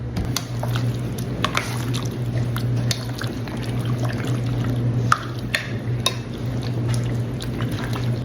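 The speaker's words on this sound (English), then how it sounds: "I'll just stir it around" Chicken being stirred in a marinade makes a continuous close, wet squishing and sloshing with scattered small clicks against the bowl, steady throughout.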